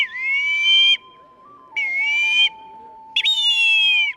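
Three loud, shrill warbling blasts from clay bird whistles blown by street vendors in Mexico City, each under a second with short gaps between, close by over a faint steady tone.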